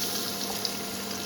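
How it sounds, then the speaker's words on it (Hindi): Whole cloves, cumin, cardamom and cinnamon frying in hot oil for a Kashmiri Wazwan-style haakh dish, a steady close hiss and sizzle with no pauses. "अभी इनको हम अच्छे से फ्राई कर लेंगे"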